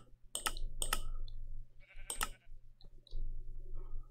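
Sheep bleating in the video game Minecraft, three short, close bleats in quick succession followed by a fourth after a pause, with faint clicking and a low background hum between them.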